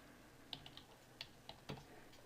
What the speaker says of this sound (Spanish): Digitamos su clave y acceso.